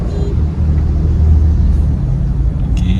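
A Honda Brio driving on a road during a learner's driving session, with a steady, loud low engine and road rumble that holds even throughout, with a faint higher click near the end.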